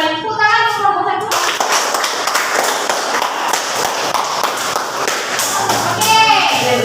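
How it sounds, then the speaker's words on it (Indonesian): Schoolchildren clap for their group in a classroom during a teaching practice session, a lively burst of many small hands with bright, uneven slaps, and children's voices can be heard before and after it. "Tepuk tangan untuk kelompok 1"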